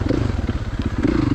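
A 2016 Kawasaki KX450 dirt bike engine working on a dirt track, a close, loud, rapidly pulsing four-stroke bark with some clatter, steady through the short stretch.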